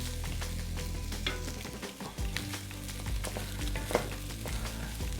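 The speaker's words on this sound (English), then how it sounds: "Already got some fat rendering out of it already." Pork fat rendering and frying for sisig, a steady close sizzle and crackle running throughout with occasional sharper pops and the scrape of stirring.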